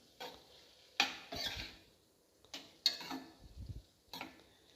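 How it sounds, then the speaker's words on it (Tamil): A spoon mixes egg into cauliflower poriyal in a pan, with a few separate bursts of scraping and light sizzling set apart by quiet pauses, close and soft. "இது நல்லா முட்டையை நல்லா கலந்து விட்டுக்குங்க"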